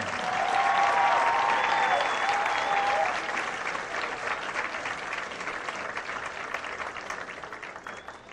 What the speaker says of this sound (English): Please give a big round of applause to Greg Hanson.